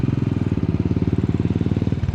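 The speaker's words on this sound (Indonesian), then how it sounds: "ada di depan ada motor ini nih, Royal Enfield" A Royal Enfield motorcycle's engine thumps in a steady, fast, even pulse, close and loud throughout, with no voices over it.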